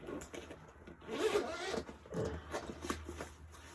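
A zipper on the front pocket of a guitar gig bag is drawn open in a few short rasping pulls, close and fairly quiet, with no talking.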